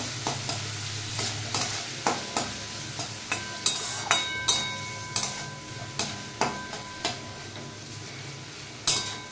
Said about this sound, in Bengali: এটা আমি ভাজবো যতক্ষণ না আলুগুলো একটু সেদ্ধ হয়ে যাচ্ছে